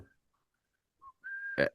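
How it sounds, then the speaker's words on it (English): A short whistled phrase: a couple of faint notes, then a sustained clear whistled tone ending in a brief louder burst, heard alone in a quiet room. "I keep whistling it to myself."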